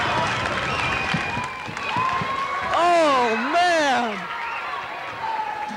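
A crowd roars at a 1995 high school basketball game between Mount Edgecumbe and Sitka, a continuous loud wash of cheering heard beneath excited commentary.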